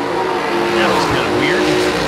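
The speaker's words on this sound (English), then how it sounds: "Car looked funny when it left start line." At a drag racing event, a race car launches hard off the start line with a loud engine roar close by, a voice talking over it.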